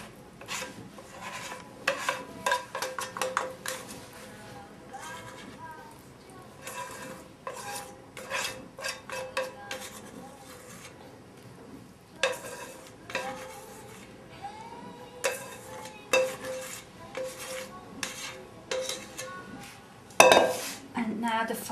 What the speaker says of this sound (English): You then turn, with the help of your spatula, your porridge out of your bowl.